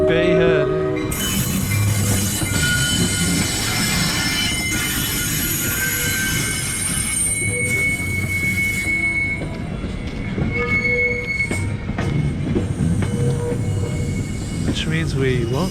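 A train at Bay Head station on the North Jersey Coast Line rumbles loudly and steadily throughout, with squealing wheels and a faint horn-like tone, while people talk at the small station.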